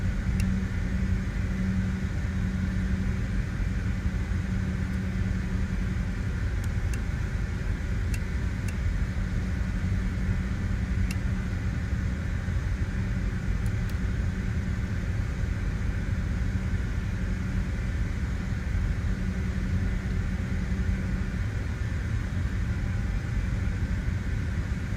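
Twin jet engines 1 and 2 of an Aerosoft CRJ7 start up in a flight simulator, a steady low drone with a humming tonal band that holds level and alone for the whole stretch.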